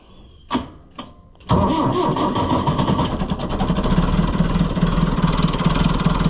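A White 700 engine is started with its starter button: two short cranking bursts, then the engine catches and settles into a loud, steady running roar close by.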